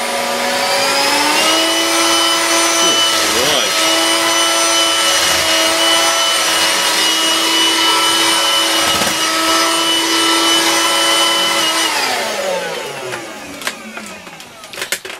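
A Hoover UNP252A cordless vacuum cleaner running on turbo after a battery pack repair, a loud steady whine held for about twelve seconds before it winds down and stops, followed by a few clicks.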